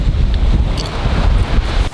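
Strong wind roars steadily outdoors at a seaside restaurant's outdoor seating, heavy low buffeting and rumbling against the microphone with no talk.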